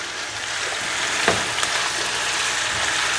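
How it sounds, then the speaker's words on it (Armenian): Peppers frying in vegetable oil in a pan, a steady close sizzle with faint stirring, no talking. "Ես էլ պղպեղն եմ տապակում լցնում"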